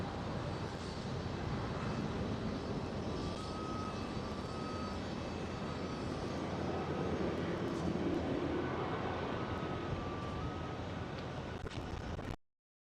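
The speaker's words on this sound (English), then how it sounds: "Right there, a KLM 777 departing." A KLM Boeing 777 departs, its jet engines a broad, steady roar heard from a distance at low level, continuous throughout before cutting off abruptly, with no talk.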